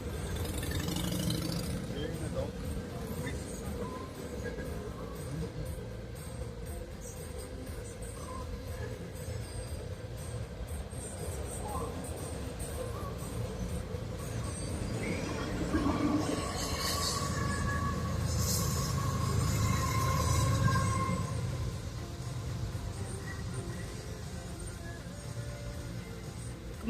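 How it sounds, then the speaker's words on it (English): Train rolling past a railroad crossing in Rittman, Ohio, a faint, steady rumble of wheels on rails with brief squeals, heard from a distance as people talk nearby. "That was the train."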